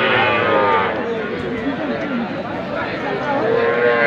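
Heifer calves at a busy cattle market low and moo repeatedly, close and fairly loud, over a constant background of crowd chatter and voices.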